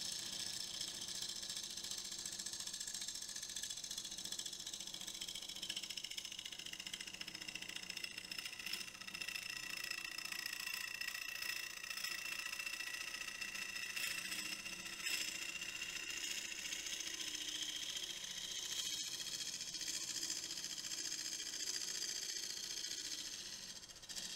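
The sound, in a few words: wood lathe turning elm hollow form at 750 RPM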